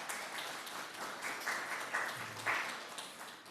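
Worshippers at a German church's Korean Sunday service clap to welcome visitors. The applause is soft and somewhat distant, a scattered, fluctuating patter with a few louder swells and no speech.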